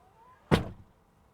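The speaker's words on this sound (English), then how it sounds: "you can close the door from the center screen by clicking on driver" A Tesla Model X door closed from the center screen ends in one soft, solid thunk after a faint motor whir, close by, with no talk.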